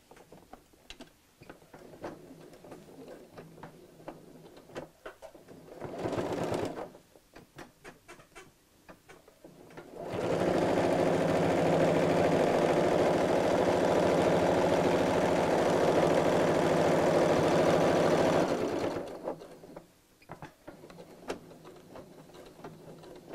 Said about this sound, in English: And then we'll sew straight across the top.